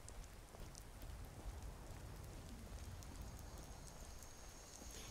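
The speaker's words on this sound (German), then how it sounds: "Ah ja, der Regen und die Dunkelheit." Steady rain falling in the video game Skyrim during darkness, an even soft hiss with scattered tiny drop ticks, heard alone without talk.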